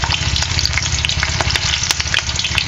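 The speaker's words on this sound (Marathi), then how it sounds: "चांगलंसं आपल्याला हे मिरची आहे ना तळून घ्यायचं" Whole red chillies, broken open, sizzle and crackle steadily in hot oil while being stirred, a dense close frying hiss with small pops throughout.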